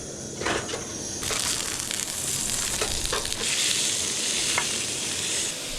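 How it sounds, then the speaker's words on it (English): Pork browning in a small steel wok at a snowbound mountain shelter camp, a loud steady sizzle with scraping and stirring clatter from a utensil throughout. "some baby bok choy and some meat I'm gonna brown up, some pork"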